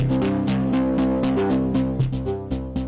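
Drive distortion, one of the two heaviest units, colours a plucked riff with gritty, thick repeated notes, loud and steady with a couple of harder accents near the end, no voices.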